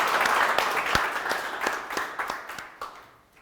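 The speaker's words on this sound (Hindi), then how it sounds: "ताड़ियों की गड़गड़ाहट होनी चाहिए" An indoor audience at an event for a judicial exam topper breaks into a burst of clapping, loud at first with distinct sharp claps, then thinning and fading away toward the end.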